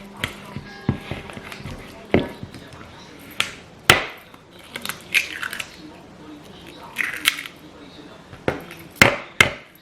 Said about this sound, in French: je vais écraser mes 200 g de potimarron que j'ai fait cuire hier